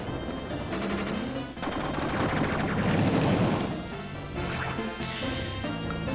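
Rapid automatic gunfire bursts from a unit attacking a tank in the Nintendo DS strategy game Advance Wars: Dual Strike, a dense, continuous rattling barrage with crashing impacts that stays loud for the whole span.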